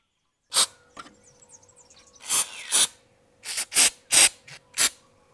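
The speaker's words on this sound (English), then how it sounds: "get some silicone spray and spray it on these grooves here." Several short hissing bursts of silicone aerosol spray onto an electric trolling motor's grooves, one after another with brief pauses, close up and fairly sharp.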